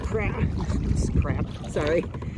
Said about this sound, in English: The shallow stuff is hard paddling to begin with, and then up against a little bit of a current and headwind